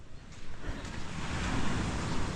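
Sea waves washing onto the shore, a continuous broadband rush that builds steadily over a couple of seconds, loud and close, with some wind noise on the microphone and no speech.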